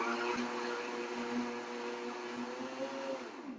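A blender runs steadily for a few seconds, mixing a liquid vegan pumpkin spice frappuccino with coffee or tea; a continuous close motor whir with a constant pitch that dips slightly near the end.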